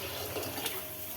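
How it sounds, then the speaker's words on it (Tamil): Water pours steadily into unroasted wheat rava in a pot for kanji, a soft continuous splashing stream, faint and close, with no talking. "இப்போ 1 கப்புக்கு 3 கப்பு தண்ணி ஊற்றிக்கலாம்."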